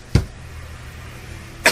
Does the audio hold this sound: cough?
yes